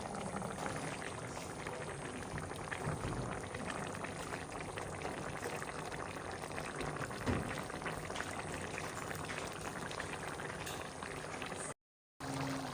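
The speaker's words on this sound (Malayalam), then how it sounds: "നല്ലോണം തിളച്ച് വരുന്നുണ്ട്" Kerala-style duck curry boils in a pot, a soft continuous bubbling and simmering of thick gravy heard up close, steady throughout with a brief dropout near the end.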